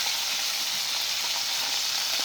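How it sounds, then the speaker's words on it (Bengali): Fish frying in hot oil, a steady loud sizzle with fine crackling throughout, no voices. "দেখার মধ্যে আবার ফাটছে, বুঝলে, পটাশ পটাশ করে ফাটছে আবার"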